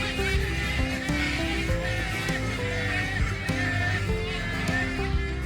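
A crowd of wetland birds calls nonstop around the Wakodahatchee Wetlands boardwalk, with overlapping honking, squawking and whinny-like cries forming a dense, loud chorus from near and far.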